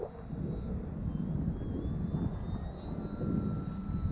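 FT Bushwacker RC model plane flying overhead, its electric motor a steady whining drone with a faint rising and falling pitch, set against outdoor wind rumble.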